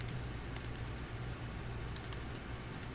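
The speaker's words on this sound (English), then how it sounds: "I was typing" Soft, steady clicking of fingers on a computer keyboard, faint and close, a continuous patter of keystrokes with no talk over it.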